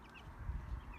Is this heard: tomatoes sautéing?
no